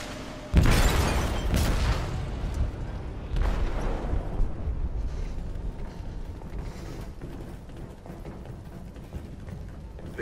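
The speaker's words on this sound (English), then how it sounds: "They detonated an explosive in the hold." An explosive detonates in a ship's hold in Detroit: Become Human, a deep booming blast that erupts loudly, then a second heavy rumble follows as the roar slowly fades into a low, lingering rumbling.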